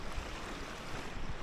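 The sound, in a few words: stream of water on the Appalachian Trail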